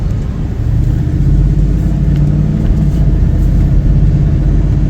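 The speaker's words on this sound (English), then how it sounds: "we're gonna go ahead and take it for a test drive in a moment" A 2019 Ford F-250 Super Duty XL 2WD regular cab with a utility flatbed pulls away, its engine a steady, loud low rumble that stays even throughout with no voices.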